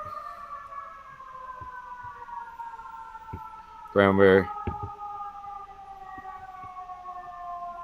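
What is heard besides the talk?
sirens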